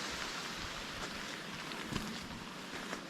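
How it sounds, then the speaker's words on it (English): Running water rushes in a steady, hissing wash during a hike in Iceland, fairly faint with light wind buffeting the microphone and no voices. "we're surrounded with the noise of running water"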